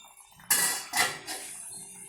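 Metal lid lifted off a pot of small sardine curry, a sharp clank followed by a second ringing knock and a lighter clink, close and loud against a quiet kitchen.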